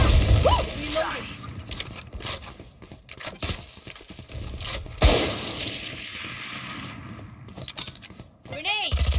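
Clicks and ratcheting of a weapon being reloaded in a shooter video game, set among scattered gunfire and explosions, with voices talking over the mix.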